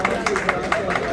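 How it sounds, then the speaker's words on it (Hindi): Crowd at a political gathering in Bihar applauding loudly to welcome a speaker, a dense, steady burst of clapping with a babble of voices mixed in across the whole moment. "जोरदार ताली से स्वागत।"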